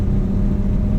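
Warmed-up car engine pulling up a hill and shifting a little hard into second gear, a steady loud low rumble and drone with no talk over it.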